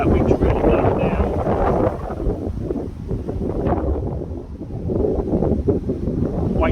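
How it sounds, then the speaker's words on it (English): Strong wind gusts across an outdoor air rifle range, a loud continuous buffeting rush on the microphone that rises and dips but never lets up. "Oh, that wind's really blowing now."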